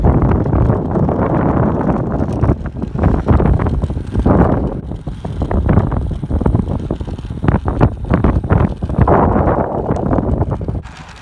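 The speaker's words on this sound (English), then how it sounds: "See if we can brave the wind." Strong wind buffets the microphone while riding along a favorite stretch of country road around Bixby, a loud, continuous low roar that surges and gusts throughout with no talking.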